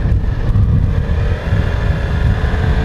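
A 2016 Yamaha R6 motorcycle engine idles steadily while warming up, a continuous close rumble with a faint whine on top and no talk.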